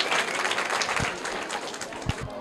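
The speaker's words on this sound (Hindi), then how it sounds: "जोरदार तालियां इनके लिए।" Students in a school classroom burst into applause for a correct quiz answer, a dense, lively patter of many hands at close range that stays steady for the short burst.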